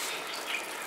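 Water streams steadily onto a garden flower bed of marigold seedlings, a continuous close rushing splash with no voices over it.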